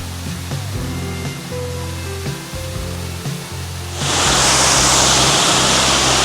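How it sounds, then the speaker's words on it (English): Rushing roar of Cedar Creek Falls in Conway National Park, first steady and moderately loud, then swelling into a brighter, fuller hiss of falling water as the falls come close. "So here we are at Cedar Creek Falls, which is in the Conway National Park"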